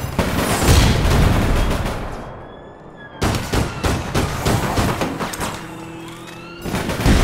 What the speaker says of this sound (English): Who keeps fucking shooting at me?